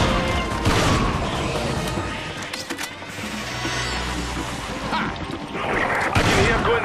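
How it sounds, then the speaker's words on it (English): Gunfire in the Resident Evil 5 Mercenaries Village level, heard as a dense clatter of sharp shots and impacts layered over a busy game soundscape, continuous and fairly loud throughout. "I can hear gunfire"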